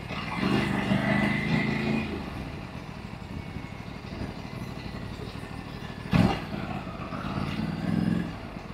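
A motorcycle engine putters and revs at moderate distance, with a brief louder burst midway and a rumbling pass near the end.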